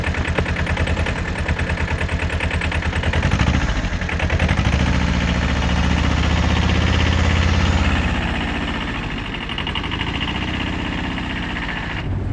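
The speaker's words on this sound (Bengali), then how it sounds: "গাড়িটার ইঞ্জিনের সাউন্ডটা একটু যদি খেয়াল করেন" The engine of a TATA Ace Ex2 mini truck runs steadily and loudly close by, a continuous rhythmic idle that rises slightly in the middle and carries on without speech.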